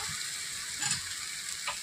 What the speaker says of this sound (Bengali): দেখো জল দিয়ে দিলাম একটু